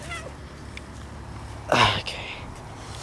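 A black cat named Lily, a garden cat, gives a single short meow that stands out briefly over a quiet outdoor background.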